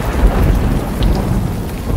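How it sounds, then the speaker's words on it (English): Heavy rain pouring down during a big afternoon thunderstorm, a loud, constant hiss of drops on surfaces with deep thunder rumbling underneath. "it's been raining all afternoon here. A massive big storm come across."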